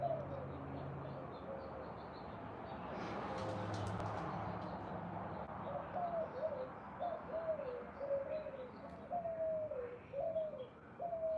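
Pigeons coo in a repeated, rising-and-falling pattern over a steady bed of background ambience, the calls growing clearer and more regular in the second half, with some faint chirps earlier on.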